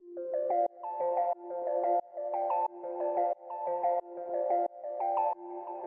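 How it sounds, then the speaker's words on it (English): A soft sine-wave synth arpeggio in a track loops a bright, gentle pattern of quick repeating notes, steady and smooth, played alone without voices. "the first sound I have here is this little sine wavy ARP thing."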